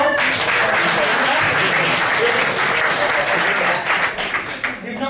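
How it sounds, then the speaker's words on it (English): A live comedy mind-reading show audience applauds a volunteer from the crowd, a steady, full round of clapping that thins out near the end. "Just give her a round of applause."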